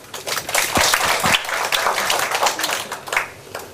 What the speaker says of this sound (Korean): 그 박수를 정말 아끼지 않고 잘 쳐주시네요.